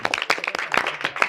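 College students at a game clap in a brisk burst of many quick, close hand claps lasting just over a second.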